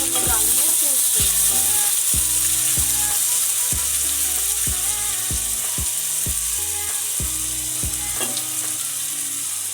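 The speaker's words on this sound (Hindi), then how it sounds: "अब हम इसमें अपना अदरक लहसुन का पेस्ट डाल देंगे और इसमें हम इसके साथ अपने टमाटो सॉस भी डाल देंगे" Ginger garlic paste and tomato sauce sizzling with fried onions in a pan for aloo chicken, a steady bright frying hiss under repeated rhythmic scrapes and clicks of a spoon stirring against the pot.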